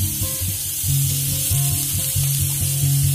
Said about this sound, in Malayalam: ഇഞ്ചിയും വെളുത്തുള്ളിയും കൂടെ നമുക്ക് ആഡ് ചെയ്ത് കൊടുക്കാം.